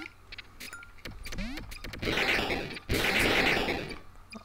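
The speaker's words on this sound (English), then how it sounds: "There were so many explosions" Firecracker and grenade explosions in the video game Duck Game, a rapid string of sharp pops and cracks building into two dense roaring bursts, loud and close over faint game sounds.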